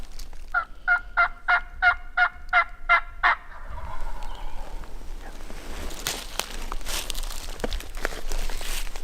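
A wild turkey gobbler on public land in Alabama gobbles in a quick burst of repeated rattling notes, loud and fairly close, followed by rustling, crinkling movement and brush noise.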